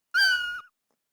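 A Scratch cat meow sound effect plays sped up and pitched higher, a single short bright meow in isolation.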